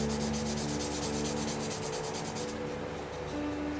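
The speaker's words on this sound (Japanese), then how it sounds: "こういうスポンジヤスリで R の部分をやってやれば" A sponge file sands the curved edges of a Tamiya Ford Mustang GT4 plastic model car body, scuffing the surface in quick, even, rhythmic rubbing strokes. The strokes are close and steady, then thin out and stop near the end.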